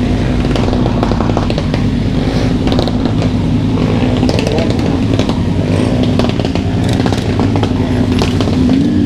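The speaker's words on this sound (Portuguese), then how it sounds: "esse barulho dessa moto, mano, me lembra um som de alguma coisa" A motorcycle engine runs steadily at close range on a street in São Paulo's east side, with a loud, constant droning rumble throughout and voices faintly underneath.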